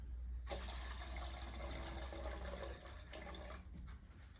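Cold water pouring steadily into a container for soaking freshly boiled apple snails, a continuous close rushing splash that runs for most of the time, then drops slightly in level near the end.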